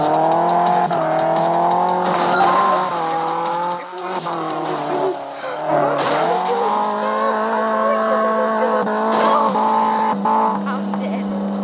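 A video game car drives through a loop-to-loop obstacle with a loud, continuous engine tone and brief tire skids, while a player talks over it.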